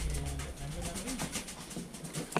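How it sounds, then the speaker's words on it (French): Soft, low cooing of pigeons in a church bell tower in Sallertaine, over a busy outdoor background, with rustling and scattered faint sounds; the calls repeat irregularly at close range. "Oh, les pigeons! Les pigeons!"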